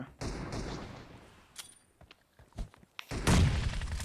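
Gunfire in a multiplayer shooter game, several sharp shots and thuds scattered irregularly with a heavier burst near the end, fairly close.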